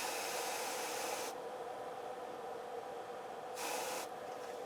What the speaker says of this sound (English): Let me spray the one in the right channel, just for comparison.